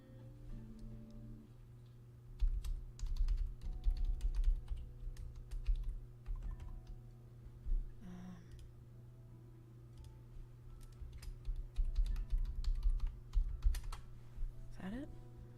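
Steady typing on a computer keyboard with a Howl's Moving Castle themed keypad, clicking in uneven bursts close by over a constant low hum.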